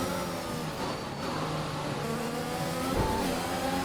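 A Formula 1 race car engine in the F1 2021 video game drones steadily throughout, a continuous high mechanical whine with a brief surge near the end, moderately loud and with no talk.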